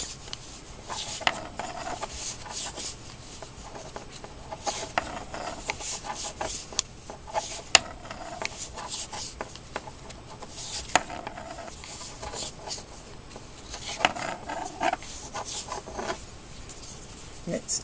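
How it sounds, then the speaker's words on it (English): Bamboo knitting needles work bulky wool yarn with soft, steady clicking and rubbing taps at close range, while a voice talks quietly over it. "Knits easily with these bamboo knitting needles."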